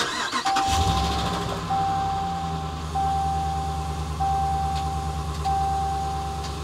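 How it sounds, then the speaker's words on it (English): A car engine cranks and catches during a battery charging system test, followed by a steady idle, while a repeated electronic beep from the tester sounds at regular intervals over the running motor. "So it's asking me to start the engine."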